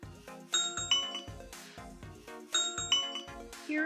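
Ring Doorbell notification chime played through an Alexa device: a bright two-tone ding-dong that rings twice in succession, clear and close with no talking.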